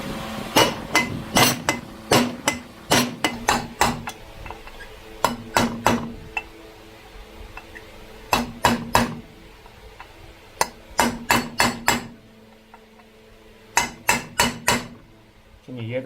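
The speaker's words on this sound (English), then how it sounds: "Can you hear the sound difference when I hit it? It's louder now" A copper hammer strikes the stator cover of a BMW S1000RR motorcycle in quick clusters of sharp metallic knocks, close and loud, with short pauses between the bursts.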